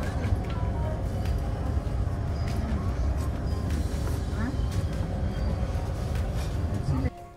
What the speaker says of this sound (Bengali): এই জাস্ট ট্রেন ছাড়লো।